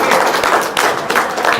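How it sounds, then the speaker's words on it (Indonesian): A small group gives a short round of clapping, several quick, fairly close hand claps over a moment or two, with light talk around them. "Wow, tepuk tangan dong"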